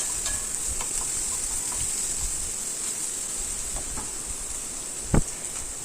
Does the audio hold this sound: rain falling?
no